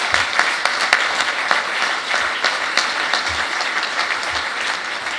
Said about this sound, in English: Give yourself a round of applause for all the great work you've all done collectively.